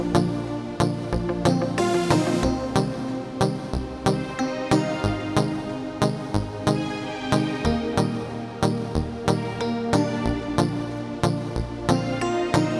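A produced beat plays with violins added over punchy drums and bass in a steady repeating pattern, with no muted guitar or synth lead, loud and alone.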